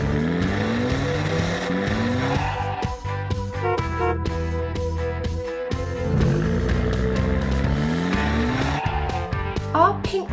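Pink, green and orange toy cars race one another, with whining engine revs rising and falling and tyre squeals running continuously at close range.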